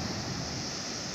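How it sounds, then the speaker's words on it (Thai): Ocean surf and wind sweep across Nai Thon beach on Phuket near sunset, heard as a steady, close hiss of breaking waves and gusting air with no voices. "ฟังเสียงคลื่นลมบนภูเก็ตเกาะภูเก็ต"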